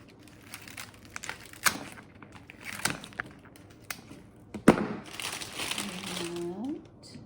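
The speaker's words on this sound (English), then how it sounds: "Okay, I'm going to cut our stems" Flower stems are cut short for a Thanksgiving cornucopia arrangement, heard as a series of sharp snips and crinkling rustles of stems and wrapping, close by, with a voice talking alongside.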